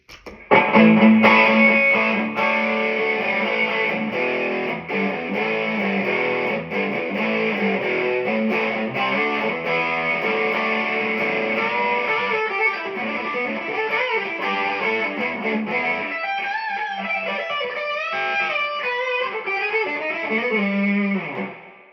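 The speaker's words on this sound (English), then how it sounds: "I'll give you a couple quick tones just with overdrive to kind of give you a feel for this" A 2025 Iron Label Seer electric guitar played through overdrive, sustained crunchy chords ringing out loud and close, then shifting into quicker bent lead notes toward the end.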